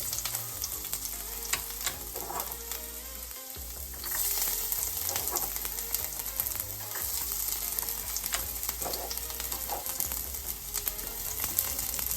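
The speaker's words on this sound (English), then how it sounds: "Fry it. Okay, garlic is fried now." Chopped garlic fries in about two tablespoons of oil for chilli paneer, with a continuous close sizzle and occasional scraping stir strokes, and no one speaks.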